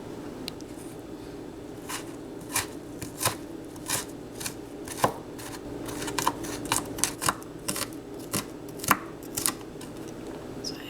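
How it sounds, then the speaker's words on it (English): Garlic, ginger, serrano pepper and onion being finely chopped for a raw vegetable marinade, a knife tapping a board in irregular crisp strokes, some closely spaced, others spread out, fairly close with a faint steady background. "I'm going to chop up the garlic, the ginger, and the serrano, and the onion in little tiny pieces"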